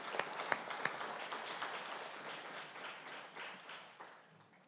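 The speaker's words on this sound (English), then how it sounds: "Let's give them a round of applause." A crowd at a city employee recognition ceremony gives a round of applause, dense steady clapping with a few sharp early claps, gradually fading toward the end.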